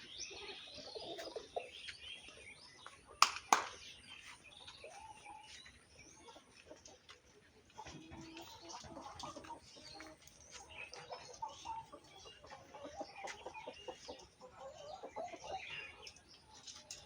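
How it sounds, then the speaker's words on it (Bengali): Hens cluck and chirp faintly across a large poultry farm, scattered calls and a brief flutter of wings in a quiet, distant setting. "মুরগি ডিম পাড়ছে রে"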